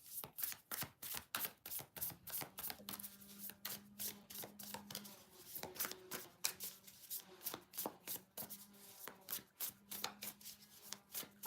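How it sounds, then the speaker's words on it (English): A tarot deck is shuffled by hand over and over, with rapid riffling clicks and soft slaps in an irregular repeating rhythm, close and fairly quiet, with a faint hum beneath. "I could shuffle all day for you."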